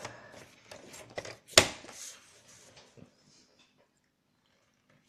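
A paper guillotine cutter slicing a paper square: scattered soft rustles and handling knocks build to one sharp, loud chop near the middle, followed by fainter paper shuffling and then near silence.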